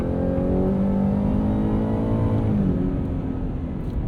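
A 2024 Ford F-150 Raptor R with a supercharged 720 hp V8 rumbles with its exhaust valves wide open, a deep, steady, loud drone with a rising and falling tone partway through, close and with no voices.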